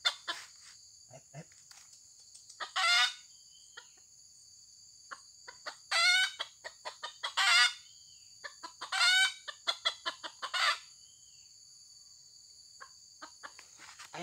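Old chickens cluck in scattered bursts, several short calls spaced apart, over a steady high insect-like hum, at a bird-trapping spot.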